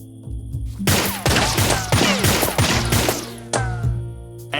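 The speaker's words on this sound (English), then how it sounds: "Who the hell is shooting at me?" Gunfire in the video game 3 Minutes to Midnight: a loud fusillade of sharp, closely spaced shots in uneven bursts, each crack ringing out with ricochet-like whines, continuing for several seconds.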